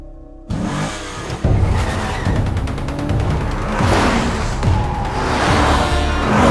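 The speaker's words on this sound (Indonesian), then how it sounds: "Dengan cepat Kang langsung menancap gas dan langsung pergi dari sana." A car in a gangster film scene speeds away as the driver floors the gas, its engine revving hard and tires squealing after a sudden loud start, the roar rising and surging through the scene without speech.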